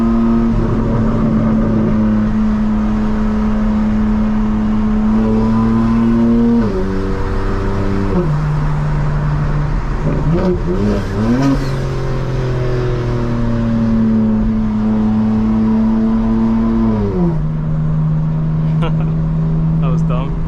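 A 2024 G82 BMW M4 Competition xDrive drones steadily while driving, its exhaust shifting pitch through gear changes and breaking into crackling burbles, with a voice talking over the cabin sound.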